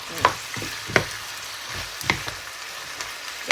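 Pork and Brussels sprouts are stir-fried in a pan, quiet frying sizzle punctuated by sharp spatula taps and scrapes roughly once a second, close and moderate in level, with no talking.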